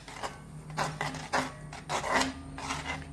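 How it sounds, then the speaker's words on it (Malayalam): Cooked banana is mixed into curd with a spoon, giving soft, repeated scraping and stirring strokes in an irregular rhythm, quiet and close, with no voices. "നല്ലോണം മിക്സ് ചെയ്യാം."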